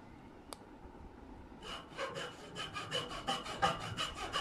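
A hacksaw cuts through the steel leg of a cot bed with a steady run of near back-and-forth rasping strokes, starting after a brief click and quickening slightly, with no talking.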